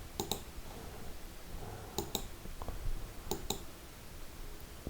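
A computer mouse clicks in quick double taps, three pairs spaced about a second apart, close and crisp over a quiet room hum with no talking.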